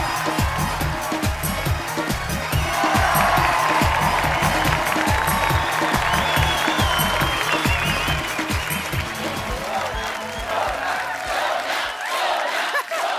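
A studio audience on The Kapil Sharma Show applauds and cheers to welcome actress Sonakshi Sinha, a dense sustained wash of clapping and crowd noise that tapers off near the end.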